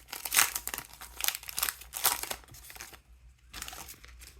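A foil wrapper on a hockey trading card pack crinkles and tears open in several sharp bursts, close and loud, then a short pause and one more crackle.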